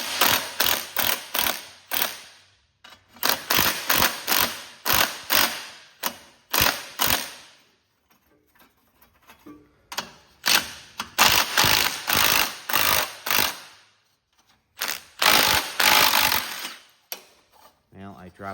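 A ratchet wrench loosens the muffler nuts on a Kohler KT17 engine from a Cub Cadet tractor, giving close, loud bursts of rapid clicking in several separate runs with short pauses between them.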